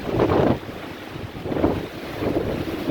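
Strong hurricane wind gusts roar and buffet the microphone in heavy, rumbling surges that rise, ease off and build again throughout.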